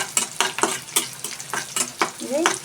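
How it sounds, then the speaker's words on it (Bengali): Garlic frying in oil in a pan, heard as a quick run of rhythmic spatula strokes, roughly two or three per second, over a soft, close sizzle. "রসুন ভাজা হয়ে গেছে"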